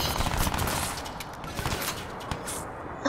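Automatic gunfire bursts from a first-person shooter game, Crysis 2, rattle steadily and fairly loudly across the moment with no talk over them.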